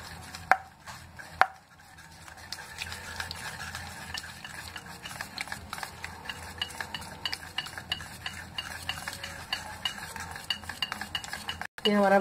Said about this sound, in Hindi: और इसको अच्छे से एक बार मिक्स कर लेंगे। आप बीटर से भी मिक्स कर सकते हैं।